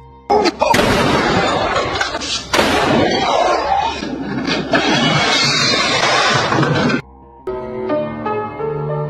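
A burst of loud gunshots and heavy blasts fills most of the stretch, then cuts to a quieter musical passage at the end.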